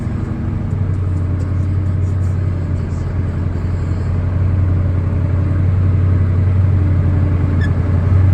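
A combine harvester threshing sunflowers rumbles with a deep, steady engine drone that swells slightly as the throttle is nudged, heard close and continuous without speech.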